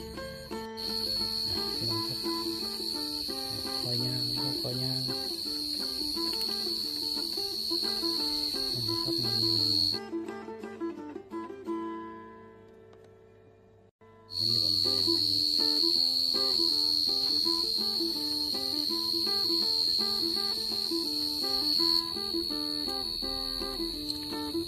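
Crickets (จิ้งหรีด) chirp outdoors in a dense, steady high-pitched trill that fills the scene, with a brief near-silent gap midway before the loud chorus resumes.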